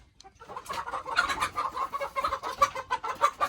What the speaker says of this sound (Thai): อันนี้เป็นเล้าไก่บ้าน